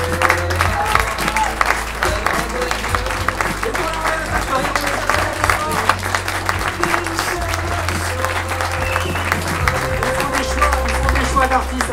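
Sustained concert audience applause at the Royale Factory, Versailles, a thick, even wash of clapping that holds at full strength for the whole stretch, with a faint murmur of voices underneath.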